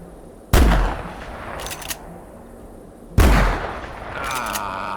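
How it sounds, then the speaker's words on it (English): Two loud, close gunshots from the hunting video game theHunter Classic, each a sharp blast with a ringing echo, a few seconds apart against quiet outdoor ambience. "I whiffed the freaking shots."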